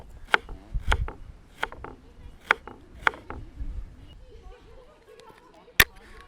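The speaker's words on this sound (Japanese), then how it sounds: "にんにくをみじん切りにします。" Garlic being minced with a knife at a campsite cooking setup, a series of crisp, close knife chops on a board in an irregular rhythm, with quieter gaps between strikes.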